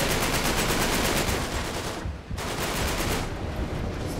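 Sustained automatic gunfire in the video game Uncharted 3: Drake's Deception, loud and rapid with a brief pause midway before the bursts resume.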